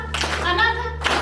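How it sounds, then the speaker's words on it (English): Classroom audience of students clapping for a classmate, a short burst of dense, fairly loud applause from many hands, with a low steady hum underneath. "Let's clap for her."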